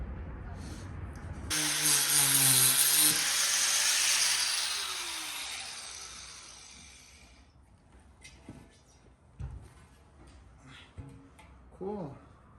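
An angle grinder cuts through metal billets, starting with a loud, harsh, high-pitched scream that holds for several seconds and then fades away, followed by scattered clanks and handling noises.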